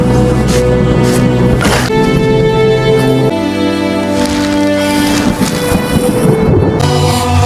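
Heavy rain and rolling thunder from a storm scene in an Indonesian horror film, loud and close, with deep rumbling swells beneath a constant downpour and music-like drones layered in.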